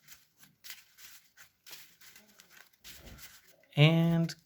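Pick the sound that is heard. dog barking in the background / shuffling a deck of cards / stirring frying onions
shuffling a deck of cards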